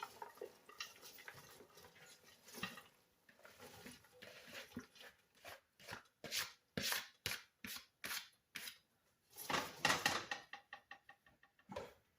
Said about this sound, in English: So I'm going to put the cabbage in the pot.